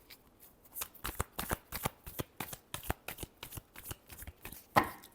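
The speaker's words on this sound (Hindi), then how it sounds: "Last shuffle." Tarot cards are shuffled by hand in a quiet room, with a rapid run of crisp riffling flutters and taps in an irregular rhythm, ending in one sharper slap. No one speaks.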